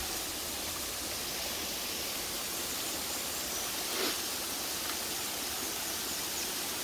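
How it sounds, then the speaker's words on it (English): Water pours down from the hills into a lake at the ruins of Penscynor Wildlife Park, a steady, broad rushing wash of falling water heard at a distance with no voices. "So the water's pouring down from the hills and down into there."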